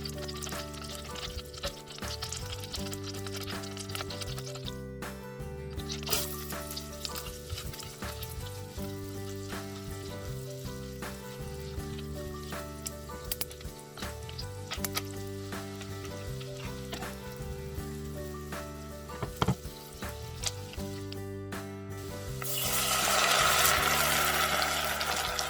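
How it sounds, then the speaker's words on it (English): Onion sautéing in melted butter in a saucepan over medium heat: a steady, close sizzle and crackle of frying running throughout, with occasional stirring scrapes and a louder hissing surge near the end. "In a saucepan, melt the butter over medium heat, add the onion, and saute until translucent and tender."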